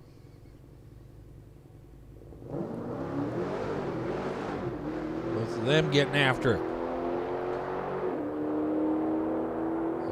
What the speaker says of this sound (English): As you hear the cars going through the gearbox